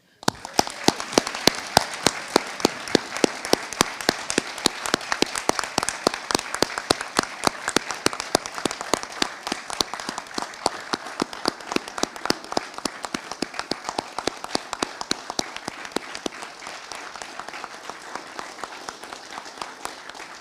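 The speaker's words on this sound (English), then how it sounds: "join me in another round of applause for the newest and most junior lieutenants in the United States Army" A crowd at an Army ROTC commissioning ceremony for new second lieutenants at Millersville University gives a long round of applause, with sharp, individually distinct claps over a steady patter that slowly thins toward the end.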